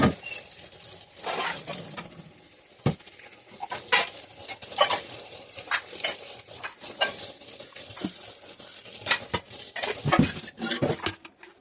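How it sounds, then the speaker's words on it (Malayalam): Pots and dishes are washed by hand, clattering, clinking and scraping in irregular bursts with a loud sharp knock near the start, all fairly close, with no talking. "അപ്പം കുറച്ച് പാത്രങ്ങളൊക്കെ ഉണ്ട്, അതൊക്കെ കൈയോടെ കഴുകി വെക്കട്ടെ"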